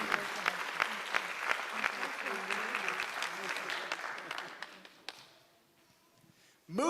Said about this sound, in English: let's give Debbie Wallace another big round of applause